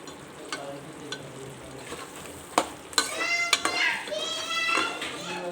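Spiced potatoes with two spoons of pickle are mixed in a pan on the stove, giving scattered clinks and scrapes of a spoon against the metal under a faint background of cooking noise, while someone talks over much of it.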